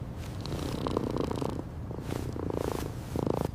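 A small kitten purrs continuously and close up inside a house at night, a steady rumbling drone with a few brief breathy swells, and no voices over it.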